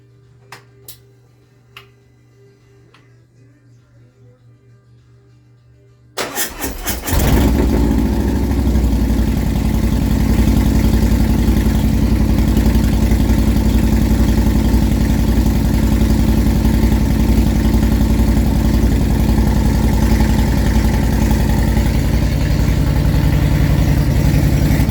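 A 2018 Harley-Davidson FLHTK fitted with a 107-to-114 big-bore kit and high-compression pistons cranks and fires for its first startup, then settles into a loud, steady, thumping idle that runs nearby and unbroken after a few faint ticks beforehand.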